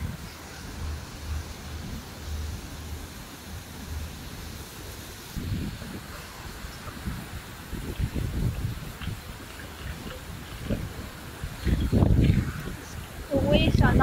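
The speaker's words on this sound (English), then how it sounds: "Wow, it's so windy, you can't even see." Strong typhoon wind gusting through leaves, a broad rushing roar with buffeting against the microphone that swells louder in the second half, with people talking over it.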